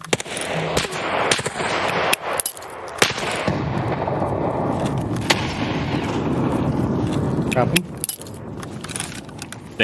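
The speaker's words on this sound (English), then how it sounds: "Someone's still shooting" Gunfire in a chaotic online shooter match: sharp cracks and bursts recur throughout, some near and loud, over a dense rumbling background with people talking over the action.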